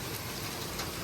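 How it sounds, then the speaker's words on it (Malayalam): Hailstones and heavy rain pelt a car in a dense, continuous patter of impacts, fairly quiet and steady, with no voices. "ഈ കാറിൻ്റെ പുറത്തൊക്കെ ഐസ് വീണ് നടക്കുന്നുണ്ട്."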